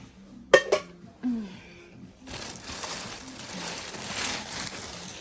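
Ceramic clinks and scrapes as a secondhand plate is handled: a couple of sharp knocks, then a rustling shuffle, with no speech.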